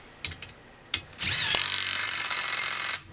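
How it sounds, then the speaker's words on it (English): Ryobi 1/2 inch cordless power tool on a VW Mk4 control arm ball joint job. A few sharp clicks, then a loud, steady motor whine runs close for about two seconds before stopping. "Ryobi is the one I use for taking a lot of stuff out. It's 1/2 inch."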